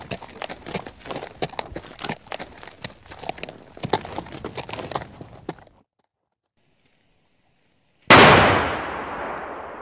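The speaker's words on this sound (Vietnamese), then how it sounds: "Có tiếng pháo rồi" A cannon fires once in an animated war film about general Nguyen Xi: one sudden loud boom with a long fading rumble, after a stretch of silence that follows busy clattering like hooves and crackles.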